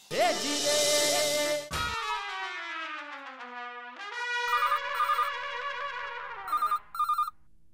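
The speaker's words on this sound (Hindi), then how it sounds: "फोन नटू काका।" A phone ringtone plays nearby, a bright electronic melody with repeated chirping beeps, following a short burst of music at the start.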